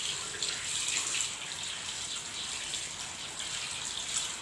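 Water runs steadily from a tap as hands are rinsed after soaping during handwashing, a soft, even hiss with no talk.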